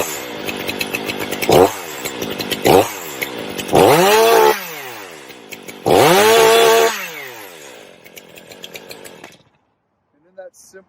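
A STIHL MS 500i chainsaw fires on the first pull and revs in several loud, close bursts, dropping back to a rough idle between them before falling quiet.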